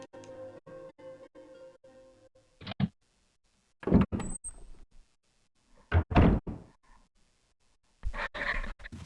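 Heavy door in the Resident Evil video game opening with a faulty handle, several distinct thumps and rattling clunks spaced a second or two apart, loud and close, with no talk over them.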